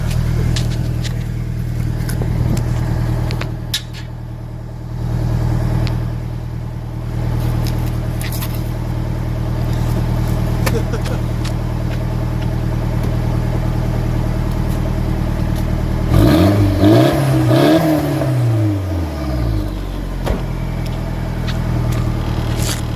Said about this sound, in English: let me go rev it up for you